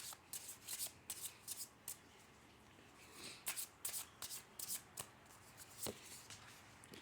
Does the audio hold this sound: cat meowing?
no